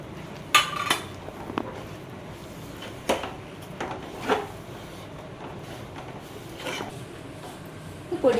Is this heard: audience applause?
no